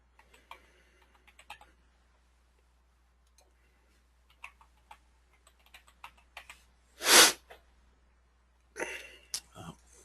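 Password typed on a computer keyboard: scattered soft key clicks in uneven bursts close by, with a louder sharp keystroke and a cluster of clatter near the end.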